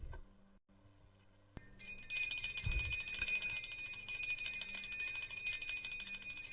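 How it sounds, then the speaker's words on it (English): A small handheld bell rings out clearly as part of a cleansing ritual during a live tarot reading, a bright sustained metallic tone that starts after a brief silence and keeps shimmering steadily to the end. "we are ringing the bell"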